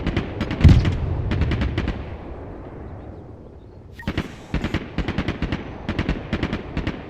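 An MT-LB autocannon fires in the war video game Broken Arrow, sounding as rapid bursts of sharp shots with a rumbling tail. After a lull, the shots come back as steady repeated volleys.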